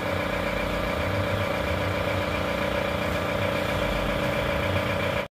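Isuzu Panther diesel engine idling with the engine still cold, a steady, even rumble held close and constant for about five seconds before cutting off abruptly.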